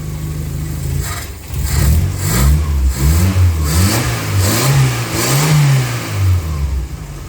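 A Toyota Corolla's engine, newly replaced, revs up and down several times in a series of loud, close rising and falling blips over a rumbling idle.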